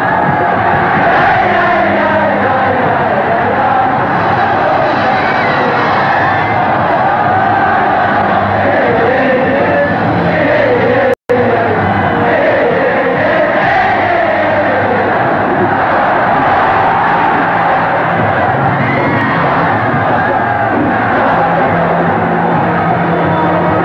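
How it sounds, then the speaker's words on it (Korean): A large crowd roars and cheers continuously at a 1982 Korea University versus Yonsei University sports match, a dense, loud wall of voices with shouts rising and falling throughout and a brief click near the middle. "환호가 터진다"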